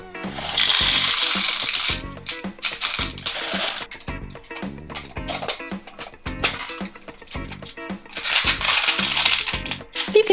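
Gumballs poured from a bag into a toy Poppy troll's hair, rattling and clattering in quick bursts of hard little clicks, close and loud, with brief pauses between pours.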